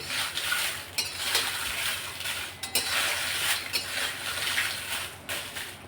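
Dry Kashmiri chillies rattle and scrape in a hot pan with no oil, dense clattering and stirring scrapes in a steady run with brief louder knocks.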